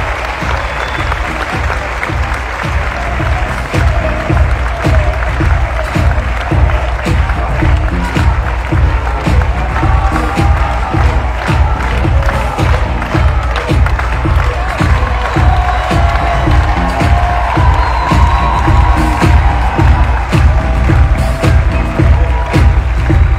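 A large audience at the Miss Normandie 2020 beauty pageant applauds the 16 candidates, rhythmic clapping building after a quieter start and holding loud and steady, with some cheering mixed in.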